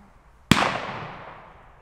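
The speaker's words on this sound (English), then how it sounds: "They shooting ducks." A single sharp shotgun blast from duck hunters cracks out, followed by a long fading echo rolling away across open space; no voices.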